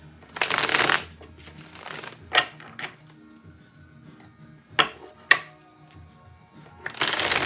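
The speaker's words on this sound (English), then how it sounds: "Let me get these shuffled in once." Several bursts of tarot cards being shuffled, a long riffle at the start and end with shorter flicks and taps between, close and clear.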